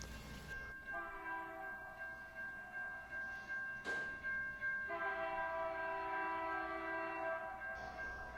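HO scale model passenger train running, with a steady electronic horn tone that sounds, pauses and resumes over a faint rolling hum, plus a brief click partway through.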